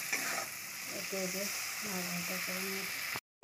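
Fish sizzles steadily in hot oil with onion and garlic-chilli paste, a continuous close crackle that runs throughout, with a faint voice-like hum partway through before a brief drop to silence near the end.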